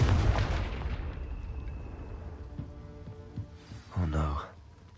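A Confringo fire spell from the Hogwarts Legacy video game bursts with a loud boom at the start, then fades into a rumbling tail, with smaller impacts and a second blast near the end.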